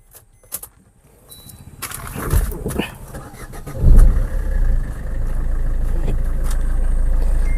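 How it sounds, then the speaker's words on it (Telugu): A Maruti Ciaz car engine cranks and catches, then settles into a steady, loud idle close by. Some clinks and handling noises come just before the start. "ఒకసారి ఇంజిన్ కూడా స్టార్ట్ చేసి చూపిస్తాను"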